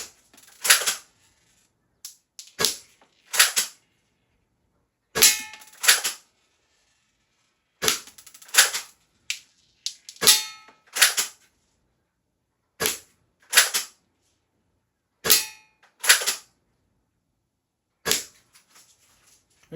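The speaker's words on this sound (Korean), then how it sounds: "그리고 사격을 한번 해보도록 하죠." Academy M416 air-cocking airsoft rifle fired at a target 5 m away: about fifteen sharp, snappy single shots, each followed by a brief cocking clatter, spaced a second or two apart with quiet gaps between them.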